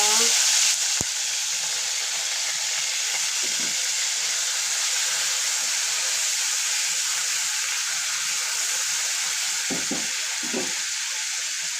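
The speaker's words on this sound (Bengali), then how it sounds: "আমি এখন বাটা মশলা দিয়ে দেবো, এই যে রসুন বাটা, পেঁয়াজ বাটা" Garlic paste and onion paste hit hot oil and frying spices, giving a steady, loud sizzle throughout with a few soft stirring scrapes and no talk.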